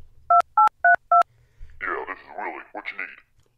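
Four short, evenly spaced telephone keypad dialing beeps sound at a toy store cashier's phone, loud and close, followed by muffled voices on the line.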